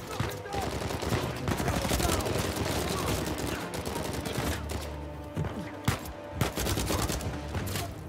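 Dense, sustained bursts of enemy gunfire in Uncharted 4, rapid overlapping shots and automatic fire close by, with a player talking over parts of it.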